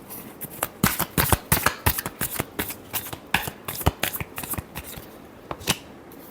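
A deck of tarot cards is shuffled by hand, a close series of crisp riffling snaps and flicks in quick irregular bursts, with no speech over it.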